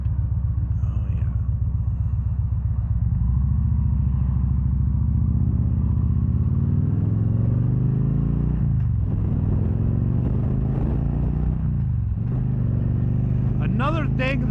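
A 2013 Victory Cross Country touring motorcycle rumbles steadily while being ridden, its low engine drone rising and dipping around gear changes under wind noise, with a brief voice near the end.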